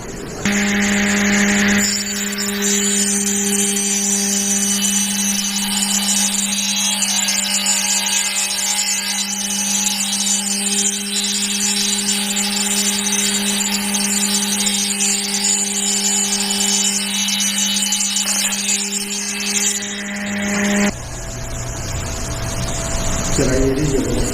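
An industrial randa wood planer machine runs with a loud, steady motor whine and hum for about twenty seconds, then cuts off abruptly near the end, close up with a voice talking over it.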